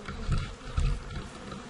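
Honey bees buzz steadily around a long-standing beehive, a close, continuous droning hum that swells briefly as individual bees pass near.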